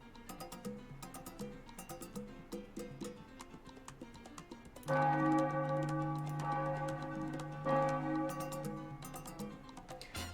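Cathedral church bells ring in the city-building game Tropico 4: faint, rhythmic chiming at first, then a sudden louder, sustained peal of overlapping bell tones that rings on steadily.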